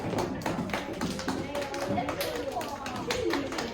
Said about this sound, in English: Now everybody clap.